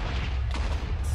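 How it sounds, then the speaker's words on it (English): Rapid crackling blasts from explosions in the RLCraft Minecraft modpack, Dregora version 2.9.2, forming a steady low rumble with a few sharper pops, moderately loud throughout. "Stop the explosions."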